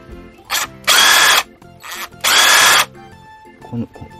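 A cordless impact driver with a set of hex sockets runs in four short bursts, two brief and two longer, each a loud close whirring rattle separated by pauses, with a faint knock at the end.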